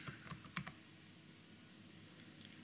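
Quiet keystrokes on a computer keyboard while entering an Excel formula, a few soft clicks in a quick cluster near the start and one more faint tap later, in an otherwise hushed room.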